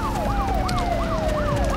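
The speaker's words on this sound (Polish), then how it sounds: "Podążaj za syrenami" Police sirens in the Enter The Matrix video game wail in a repeating rising-and-falling cycle over a steady siren tone and engine rumble, loud and continuous.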